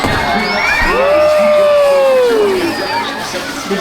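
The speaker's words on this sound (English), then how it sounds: "let's give her a big round of applause, everyone!" A crowd cheers and whoops at a SeaWorld San Diego show, a sustained wash of voices with a long, sweeping whistle-like tone gliding over it.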